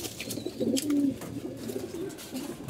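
Pigeons kept by a breeder coo softly and close by, giving a few low throaty calls against a quiet background.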